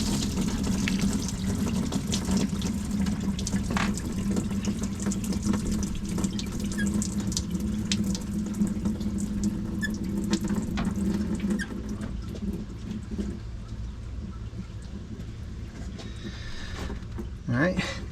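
Coolant from a 1997 GMC Sierra with the 4.3 engine trickles slowly and continuously into a drain pan during a water pump replacement, a close, steady watery patter with occasional faint squeaks.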